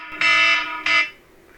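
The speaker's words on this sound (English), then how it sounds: "My timer scared me." A kitchen-style timer alarm goes off indoors with two loud electronic bursts, a longer shrill tone followed by a shorter one, sounding alone with no voices.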